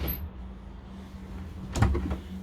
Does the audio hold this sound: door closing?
yes